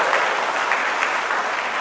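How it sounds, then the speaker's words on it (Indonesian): A church congregation gives dense, continuous applause that stays loud and even throughout, with no voices standing out. "Tepuk tangan saja kasih bapak-bapak ini."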